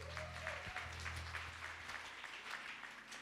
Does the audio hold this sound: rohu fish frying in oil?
no